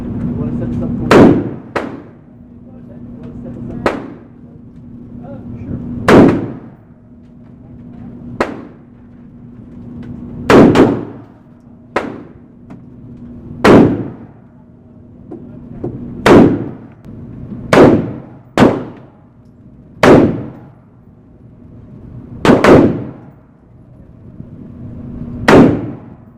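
Rifle shots from a 5.56 firearm ring out at a steel target range, roughly a dozen sharp loud cracks with metallic ringing tails, spaced irregularly at first and then coming faster, over a steady low background hum.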